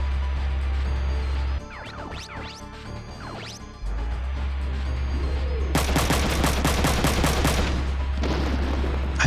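Weapon fire from a mecha in the video game Front Mission 3: scattered impacts and swooping effects give way to a loud, rapid volley of repeated shots, then another short burst over a low game drone.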